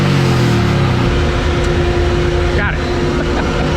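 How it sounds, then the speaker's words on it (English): Indian Scout motorcycle engine held at the rev limiter near 8,000 rpm, a loud sustained buzzing drone that stutters steadily as the limiter cuts in, with a voice heard briefly over it. "Definitely hit rev limiter that time."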